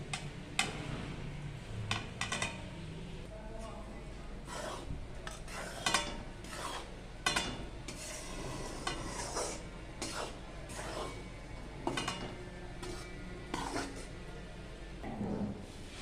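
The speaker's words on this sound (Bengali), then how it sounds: "কড়াই গরম হয়ে গেছে, এবার ওই বেসনটা ঢেলে দেবো।" Gram flour goes into a hot kadai for sweet besan mango barfi, with repeated close scraping and stirring clinks of a spoon against the pan over a soft steady sizzle, no talking.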